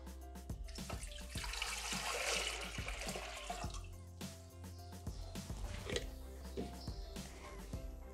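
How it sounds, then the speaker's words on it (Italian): Water runs and splashes steadily into a Thermomix jug, a faint, continuous gush with small clinks over quiet background music. "Iniziamo la ricetta mettendo all'interno del boccale l'acqua"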